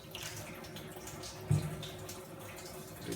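Water from a tap runs through hog intestine casings during cleaning, a quiet steady trickle with a brief gurgling splash partway through.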